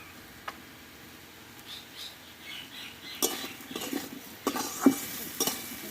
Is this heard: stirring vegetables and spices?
yes